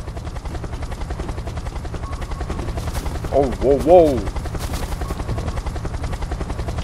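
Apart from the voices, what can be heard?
helicopter in Unturned video game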